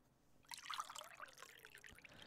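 Liquid from a small vial poured into a container of water, a faint soft trickle and splash lasting under two seconds, close and quiet, with no talking.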